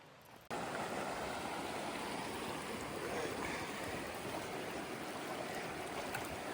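Glacial meltwater of the White River in Oregon rushes past in a steady, even wash of water noise that begins abruptly and continues unbroken.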